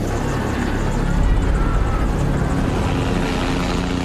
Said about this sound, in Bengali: শিক্ষার্থীরা প্রতিরোধ গড়ে তুললে র্যাবের হেলিকপ্টারে পালাতে দেখা যায় আইনশৃঙ্খলা বাহিনীর সদস্যদের